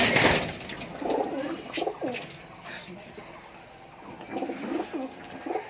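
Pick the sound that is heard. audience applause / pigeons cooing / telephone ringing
pigeons cooing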